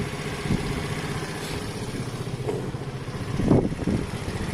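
A Sinnis Harrier 125 motorcycle engine idles steadily close by with an even, throbbing rumble that swells slightly for a moment near the end.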